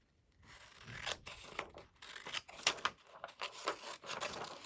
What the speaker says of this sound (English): I'm going to cut those out as well